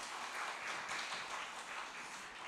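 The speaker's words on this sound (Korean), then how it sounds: "여러분 힘찬 박수로 환영해 주십시오." A church congregation at a Sunday service claps in steady applause to welcome the pastor before the sermon, a dense and even wash of many hands at moderate volume with no talking over it.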